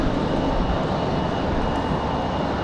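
A CRJ regional jet at Raleigh-Durham airport gives off a steady, loud broadband engine roar that holds at an even level throughout, with no voices.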